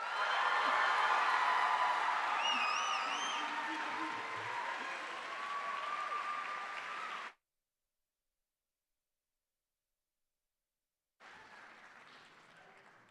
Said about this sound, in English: Another round of applause for our salutatorian and valedictorians